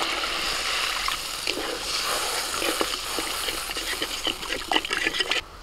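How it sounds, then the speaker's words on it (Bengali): Water is poured into a pan of fried cooking spices for a gravy, giving a soft continuous trickle and gentle sizzle with light clinks that grow a little louder toward the end. "এবার আমি জল দিয়ে দিচ্ছি।"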